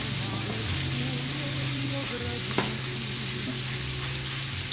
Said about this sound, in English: We got our beef browning in butter.